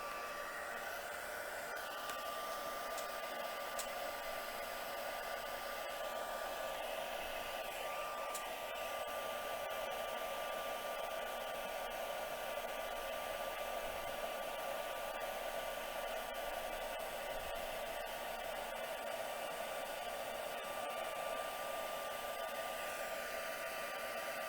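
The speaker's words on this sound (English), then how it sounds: "So we'll bring back in our heat tool, give it a heat" A heat embossing tool blows hot air onto cardstock at setting two, giving a steady, unbroken fan-like whoosh with a faint whine that stays at one level throughout, heard alone without talk.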